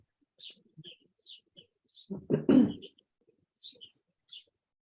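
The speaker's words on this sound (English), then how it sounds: "Birds are chirping somewhere." Scattered high, thin chirps from birds at a distance, repeating irregularly, interrupted by a brief low murmur of a voice in the middle.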